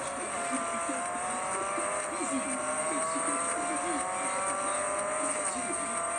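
Ford Focus race car in the mobile game Real Racing 3 drones at a steady high engine whine with slight pitch shifts, constant and moderately loud, while a person talks over it.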